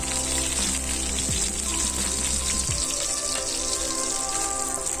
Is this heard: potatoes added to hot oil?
yes